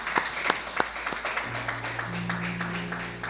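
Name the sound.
congregation applauding in church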